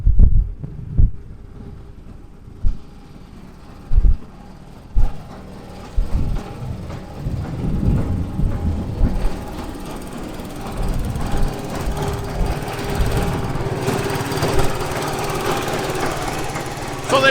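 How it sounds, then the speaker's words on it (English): A plaster mixer hopper churns sand and cement for a stucco brown coat on a building site, a rumbling, throbbing machine drone with intermittent knocks and thuds, fairly close and loud. "So they mix it all in this hopper right here, in the mixer, and then it gets pumped around through the hose."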